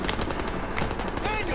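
Machine gun fire in Call of Duty: WWII: fast, continuous rattling bursts at close range, loud throughout, with a voice talking over it.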